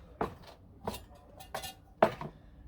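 Metal parts of a Trangia camping stove clink together four times as it is assembled. The knocks are light and sharp, spaced apart over a quiet background, with no talk.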